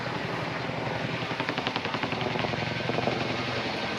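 A Chinook twin-rotor helicopter climbs at maximum power during an airshow flying display, making a loud, continuous roar with a rapid rhythmic blade thump that grows stronger midway, with no voices.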